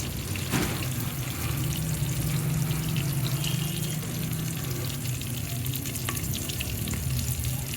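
Garlic, two chillies and onion frying in hot oil for a dal tempering, a steady close crackling sizzle that runs unbroken throughout with faint scraping and no voices.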